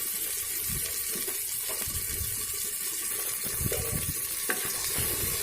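Ginger and cumin paste frying over a low flame in a pressure cooker while being stirred, a steady close sizzle with scraping stir strokes throughout.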